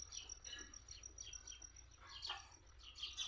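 Sparrows perched on a wire near a house compound give faint, scattered chirps at a distance over a low background hum.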